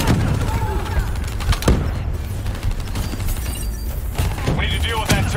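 Turret gunfire in Call of Duty Black Ops 3 campaign mode: a dense, continuous rattle of shots with sharp impacts, under a busy battle mix and players talking.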